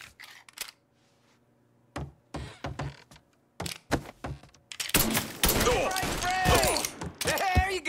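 Gunfire in Mafia 3 arrives as scattered sharp shots and short bursts, then turns into a loud chaotic stretch of firing with squealing, screeching sounds layered over it.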